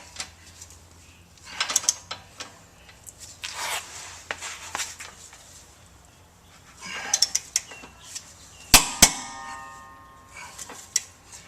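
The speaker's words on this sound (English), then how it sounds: "Once it's torqued, you should hear the torque wrench click." Sharp metallic clicks and clanks from a torque wrench while installing a Panhard bar, scattered in bursts, with a pronounced pair of clicks near the end; no talking.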